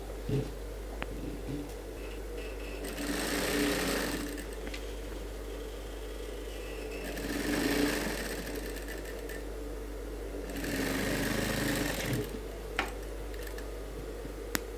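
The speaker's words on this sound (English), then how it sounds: "the next thing is you sew" Sewing machine stitching a suit, three bursts of rapid whirring and clattering, each lasting a couple of seconds, separated by quieter pauses with a low steady hum underneath.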